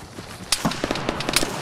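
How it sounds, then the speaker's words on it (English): Gunfire in the Arma 3 military shooter: a series of sharp, cracking shots in irregular bursts, several loud reports standing out over a steady background din of battle. "I'm getting shots off."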